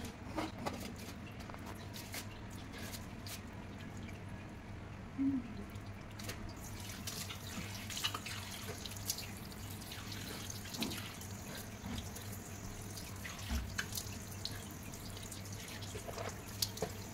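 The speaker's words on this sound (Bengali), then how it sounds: "ভালো করে ফেস ওয়াশটা দিয়ে ভালো করে মুখটাকে ধুয়ে নিতে হবে" Tap water runs steadily into a sink during face washing, with soft drips and splashes in a continuous low wash over about seventeen seconds, nearby and moderately quiet.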